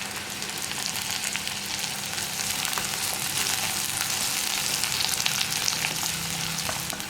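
Onions, green chillies and curry leaves frying steadily in a pan for a beetroot cabbage thoran, a continuous close sizzle with faint stirring scrapes and no talking.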